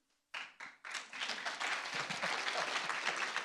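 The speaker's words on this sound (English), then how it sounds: "That does deserve a round of applause" Audience applause at a conference talk, starting with a few separate claps that quickly swell into dense, steady clapping from a crowd.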